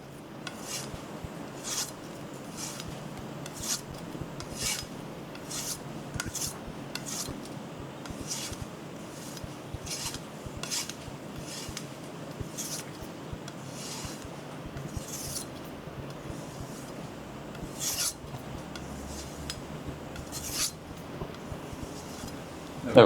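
A knife being stropped on a strop loaded with 1 to 2 micron diamond polishing compound, giving steady repeated soft rasping strokes, fairly quiet and close, in a regular back-and-forth rhythm.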